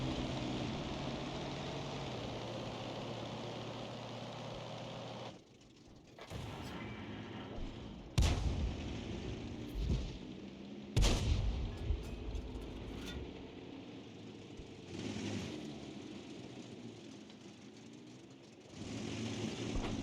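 Tank cannon fire from a Pershing in a World War II video game: several heavy, isolated booms spaced seconds apart over a low engine rumble and battlefield ambience.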